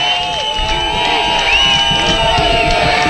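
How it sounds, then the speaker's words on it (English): A football crowd backing the Glacier Peak Grizzlies defense cheers throughout, a broad steady roar under a commentator's voice, with scattered whistles and shouts. "you can hear the Glacier Peak crowd underneath cheering on the Grizzly defense"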